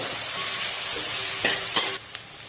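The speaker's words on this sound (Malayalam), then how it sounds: "ഇത്രയും നമുക്ക് നല്ലതുപോലെ ഒന്ന് വാട്ടിയെടുക്കണം" Sliced onion and long thin-cut coconut slivers sautéing in a pan, a bright continuous sizzle with a few scraping stirs of the spoon near the end, close and fairly loud.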